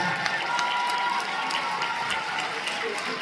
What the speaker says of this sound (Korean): 대단한 기사 여러분 박수 한번 부탁드리겠습니다.